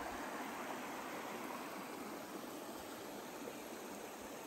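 Water flows through a beaver dam in a forest stream in Algonquin, a steady, broad rushing wash, continuous and fairly near, with no voices.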